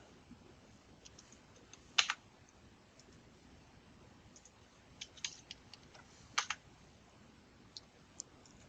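Short bursts of typing on a computer keyboard, with quick clusters of light key clicks separated by pauses, close and fairly quiet in a still room.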